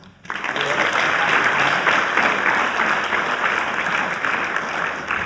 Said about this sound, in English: to give a round of applause to our first two speakers